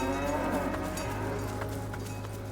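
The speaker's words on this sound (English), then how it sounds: "Hello, cow? I would definitely feed this cow." A cow in the video game Dungeons of Hinterberg gives a long, drawn-out moo, close and clear over soft game background sound.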